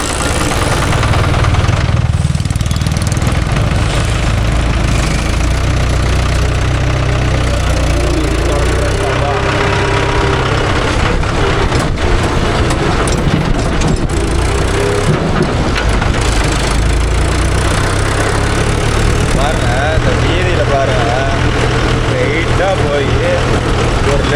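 A Mahindra 575 or Yuvo 585 4WD tractor engine runs steadily at a loud, low idle for the whole stretch, with someone talking over it.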